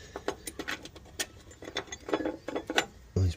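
Bolt being fitted to the battery clamp of a Mk3 Ford Escort pickup: a run of small metallic clicks and ratcheting taps, close and fairly quiet, ending in a louder knock.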